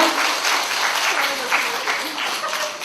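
An audience at a makeup lecture at a beauty academy claps steadily through a short burst, with a speaking voice faintly heard over the applause.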